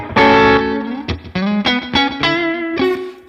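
An electric guitar plays through the Deluxe Reverb amp model of a Line 6 Helix Stadium XL, on a Nashville session preset. A short, clear phrase of plucked notes and chords rings out with light effects shimmer, and no one speaks.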